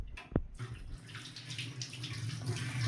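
Tap water runs steadily into a kitchen sink while vegetables are rinsed for a home-cooked meal, a continuous close splashing stream with one brief sharp knock near the start.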